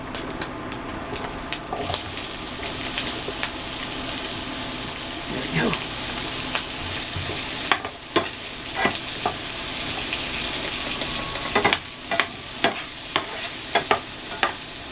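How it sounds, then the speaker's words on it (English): Onions sizzling in olive oil in a hot pan, a steady bright frying hiss with scattered clicks and scrapes of stirring on top, close and fairly loud throughout. "A little olive oil in the pan there. Put this over here. And now we put in the onions."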